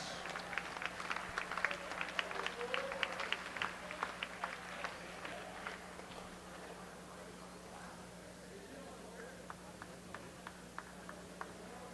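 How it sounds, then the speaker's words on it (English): An audience at a high school conference swimming meet applauds its all-conference athletes, a faint, distant patter of clapping that fades out partway through and leaves a steady low hum, with a few scattered claps later. "Let's give our all-conference athletes a round of applause."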